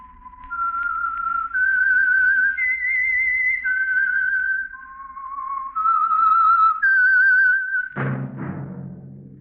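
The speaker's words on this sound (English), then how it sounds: "That whistle is your signal for the Signal Oil Program, The Whistler." A solo whistled melody, the theme signal of the 1946 radio drama The Whistler, rising and falling clearly and close for about eight seconds before a brief orchestral sting.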